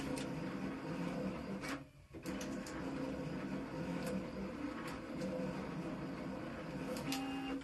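A vinyl cutter runs steadily through a cut, giving a continuous mechanical whir and rasp with brief sharper ticks and a short dip partway, close and fairly loud with no talk.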